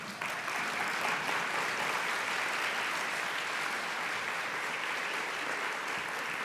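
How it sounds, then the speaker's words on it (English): A conference audience gives a round of applause for the event's sponsors at a general session, continuous dense clapping from a large room that holds steady throughout. "Please join me in giving them a round of applause."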